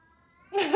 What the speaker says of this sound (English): Okay, that's the cat.